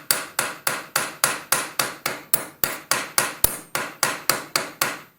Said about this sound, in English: using the ball peen hammer